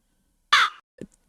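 A single loud, harsh crow-like bird caw in a video game, close by, followed by a brief faint click.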